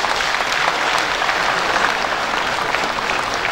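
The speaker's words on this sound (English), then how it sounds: "May I at this juncture ask all the inductees to give a big round of applause for the President," A full room of inductees at an annual assembly of registered quantity surveyors gives loud, dense, sustained applause for the President. The clapping is steady and continuous throughout, with no voices standing out.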